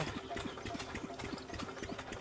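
A small motorbike engine idles with a steady rapid chugging rhythm, close by and fairly quiet, beside a farm canal, with no other sounds over it.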